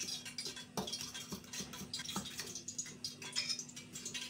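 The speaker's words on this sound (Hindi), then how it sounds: "अब हम इसके अंदर ये सारे मसाले ऐड करेंगे। इसको मैं अच्छी तरह मिक्स करूँगी।" Spices are stirred into a Bihari bachka batter in a bowl: faint, irregular scraping and tapping of a spoon, with a few sharper clinks against the side, close and quiet.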